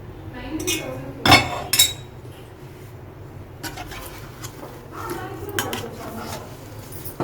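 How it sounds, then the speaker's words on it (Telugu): Gooseberry pickle is stirred together with garlic and oil, with clinking knocks of a spoon against a dish and soft mixing sounds. A person talks over it. "మొత్తం అంతా మంచిగా కలిపేసుకుంటున్నాం"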